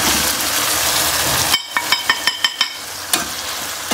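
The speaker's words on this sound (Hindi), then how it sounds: "मसाले डाल के हमें इसकी खूब भुनाई करनी है।" Spices frying with softened tomatoes in a pan give a dense, steady sizzle, then a series of sharp rhythmic scraping taps as the mixture is stirred, with the sizzle continuing underneath.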